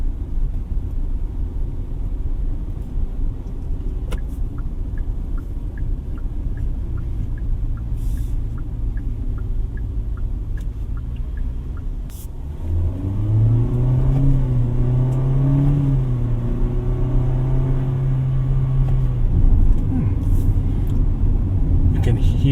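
The 1.5-litre engine of a 2024 Kia Sonet SX heard from inside the cabin on a drive, a low steady hum that rises into an audible rev midway, mostly under a driver's talk.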